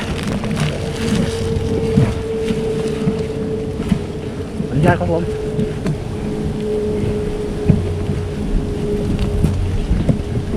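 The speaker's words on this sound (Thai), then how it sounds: "ลมแรงสุด" Strong wind roars steadily outdoors during a giant honeybee nest harvest on a bad-weather day, buffeting the microphone with constant low rumble and gusts while someone speaks briefly.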